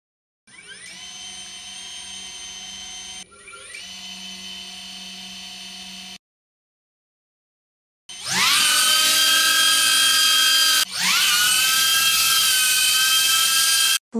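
DJI Avata drone propellers, aftermarket and genuine, spinning up in two separate runs: a shrill, loud whine with a steady tonal drone, the first run quieter, a pause of silence, then a louder, harsher second run with a brief dip.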